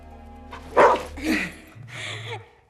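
Nessie the dog lets out a few loud, close barks in quick succession, each short and sharp, with a quieter muffled bark trailing at the end.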